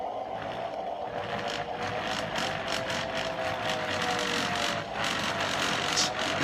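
Large-scale Hartland Mack model locomotive with DCC Tsunami sound running at full speed, a steady mechanical whir and rapid clicking gear chatter that holds at a constant moderate level without pause.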